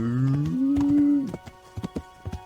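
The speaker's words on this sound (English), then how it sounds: "Nice fat cattle out there just running loose" A cow in the medieval game Kingdom Come: Deliverance lets out one long, loud moo near the start, followed by a scatter of quieter hoofbeat-like knocks and game noises.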